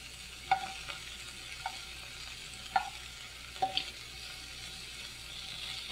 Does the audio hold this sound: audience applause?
no